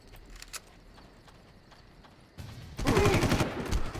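Several sharp gunshots crack out in the video game Far Cry, first sparse and faint, then a dense, louder burst of rapid fire with clattering noise.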